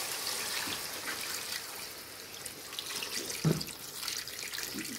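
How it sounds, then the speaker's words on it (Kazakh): Water pours into a cauldron of fried meat and vegetables in a continuous splashing stream, close and moderately loud, with a few louder gurgles and splashes along the way and no talking. "Енді суын құямыз."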